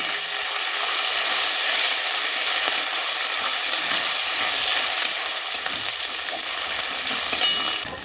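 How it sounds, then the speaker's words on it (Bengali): Bay leaf, dried red chilli and whole cumin seeds sizzle and fry steadily in hot oil for Bengali-style masala chicken dum, a continuous close crackling hiss with no voices. "তেজপাতা, শুকনো লঙ্কা, গোটা জিরে, এবার আমি একটু ভেজে নেব।"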